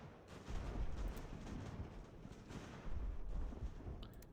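Distant artillery fire on a colonial-era battlefield in Ultimate General: American Revolution, a faint continuous rumble of cannon booms with a couple of heavier thuds rolling through.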